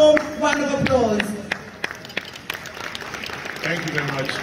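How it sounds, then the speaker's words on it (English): Scattered applause breaks out from an audience at a birthday event, opening with a brief spoken voice and then settling into a few sparse, uneven claps that fade and pick up slightly toward the end. "Please give him a warm round of applause."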